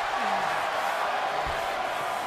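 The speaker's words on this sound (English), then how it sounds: "And this crowd is going crazy for Bishop." Wrestling crowd at an ESW Manhattan Mayhem event, a steady roar of cheering and shouting from an arena audience, fairly loud and unbroken, with faint voices mixed in.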